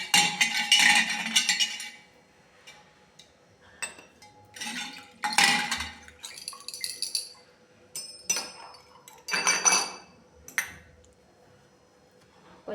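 Brass and copper vessels clink and clatter as they are rinsed with water, arriving in several splashy bursts separated by brief quiet pauses.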